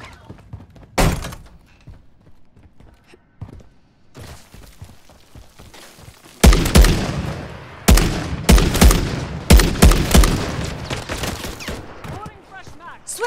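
Marksman rifle shots in Call of Duty ring out as sharp, loud single cracks, first one isolated shot, then a spaced series of heavy reports over faint background noise.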